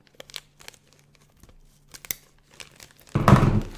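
Scissors cut open plastic packaging with faint scattered crinkles and snips, then a loud, close burst of crunching, tearing plastic at the end.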